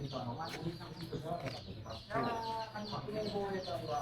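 Chicken and newly hatched chick clucking nearby, repeated short clucks and peeps with people talking over them throughout.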